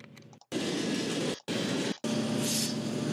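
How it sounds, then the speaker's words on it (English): A westbound Norfolk Southern empty coal train with a trailing DPU diesel rumbles past in a loud, steady roar, broken by two brief dropouts, with a hissing rush building near the end. "the westbound NS1070 Wabash DPU trailing NS8815 empty coal train"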